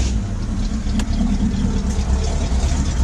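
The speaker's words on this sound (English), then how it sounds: "The exhaust sounds good." A classic Chevrolet C10 truck engine idles steadily with a low, rumbling exhaust throb, close by and continuous, with a brief click near the start.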